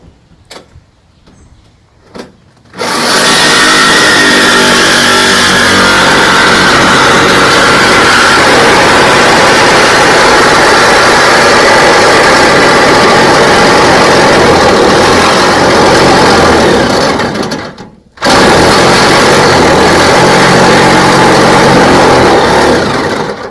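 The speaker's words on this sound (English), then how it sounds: "I found that the jigsaw works best." A jigsaw cuts a window opening in the metal side of a Promaster 2500 van. Its loud, steady buzzing drone runs almost without a break, drops out for a moment, then picks up again.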